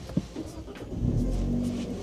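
A 2025 Hyundai Elantra N with its 2-liter engine and manual transmission fires up, a low engine rumble rising into a steady idle after a brief click, close and moderately loud.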